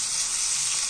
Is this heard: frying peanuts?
yes